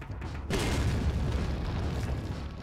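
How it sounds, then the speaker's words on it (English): A grenade goes off in the Resident Evil 4 video game: one loud, sudden boom after a brief quiet moment, followed by a rumbling, debris-filled tail that fades slowly. "I'm going to grenade them"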